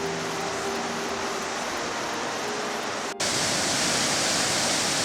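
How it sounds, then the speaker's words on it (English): The Waitaffeta stream pours into the Ahingamuri River beside a main road near Paeroa, New Zealand: a loud, steady, close rushing of water that never lets up, with no voices. "This is where the Waitaffeta stream flows into the Ahingamuri River, right beside the main road."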